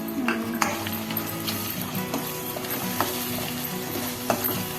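Tomatoes frying with ginger and garlic in a pan, a steady close sizzle with scattered clinks of a spoon stirring against the pan, and a voice talking faintly.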